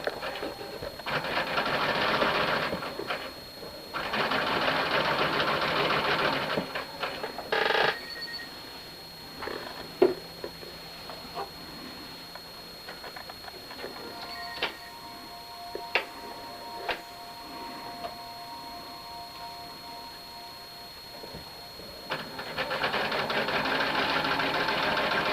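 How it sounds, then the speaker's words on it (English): A sewing machine stitches a fabric surgical cap in several loud, fast bursts of rapid whirring, separated by quiet pauses filled with small clicks and handling noises, with one more burst at the end. "Stitch this down,"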